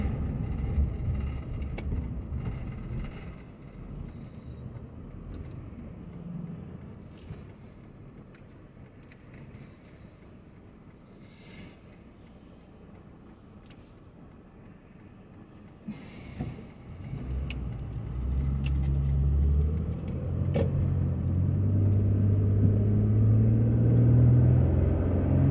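A car drives down a residential street in Anderson, Indiana, heard from inside as a steady low engine and road rumble that eases midway, then swells again with a louder, deeper hum as it speeds up.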